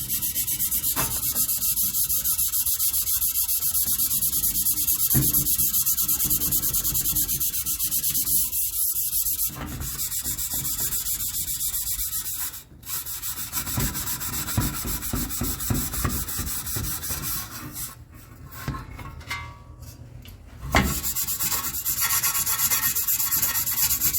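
Scrubbing flash rust off a 1960 Chevrolet Impala reproduction valance makes a steady, close abrasive rubbing that runs on with short breaks and changes in stroke, with no talking.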